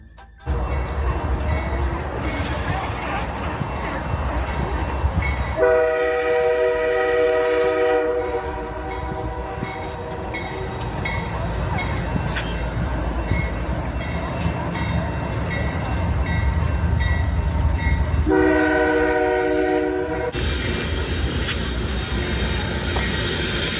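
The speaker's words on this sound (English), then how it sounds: "I hear a train." A train rumbles past with two long, loud horn blasts, a steady mechanical roar underneath throughout.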